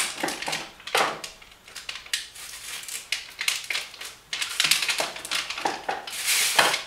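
Stainless heat-treat foil being folded over at one end, giving bursts of crisp crinkling and crumpling close up, with short pauses between folds.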